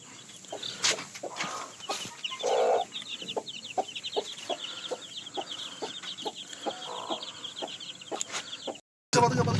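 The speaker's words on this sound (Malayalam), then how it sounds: "ഗൈസ് കോഴിക്കുഞ്ഞുങ്ങൾ" Many small chicks peep and chirp in a rapid, high-pitched chorus close by, with occasional soft knocks and a brief cut near the end.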